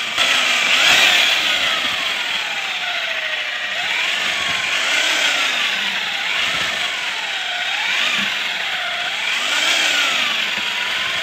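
An electric power mixer stirs homemade carp fishing bait in a bucket, its motor whining steadily with rising and falling pitch as it works around the bucket, loud and close with no talking.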